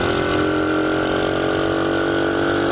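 A small Honda Dax 125cc motorcycle engine runs steadily close by, a continuous mid-pitched drone with a buzzing exhaust that holds fairly even rather than climbing sharply, with no talking over it.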